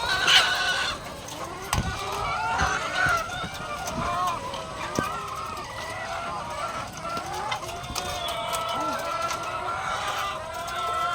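Hens cluck and chatter continuously around a farmyard during egg collecting, with occasional louder squawks over a busy, noisy background.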